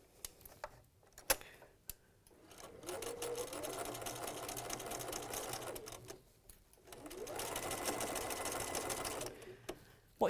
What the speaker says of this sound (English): we're going to sew these together